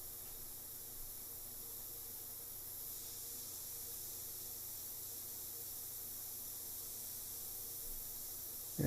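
A spray gun lays a transparent coat of brown lumber-colored paint over orange on a Harley part, giving a faint, steady hiss that runs continuously without break.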